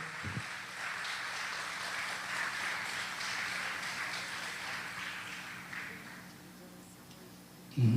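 A church congregation applauds together in a steady, diffuse wash of clapping that holds for several seconds at moderate level, fading slightly near the end before a brief louder bump.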